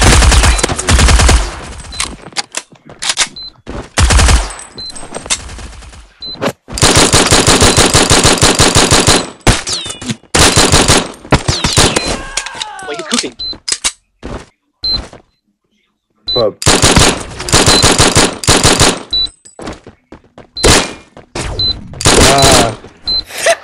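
Rapid automatic gunfire from a video game gun, loud and dense, coming in long sustained bursts broken by brief pauses and one full silent gap, with faint beeps and some talk mixed in.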